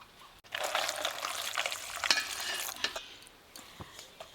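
Water poured into a bowl of dry soybeans to soak them in a home kitchen gives a short, close trickle and splash lasting about three seconds, followed by a few faint knocks and drips, with no talk.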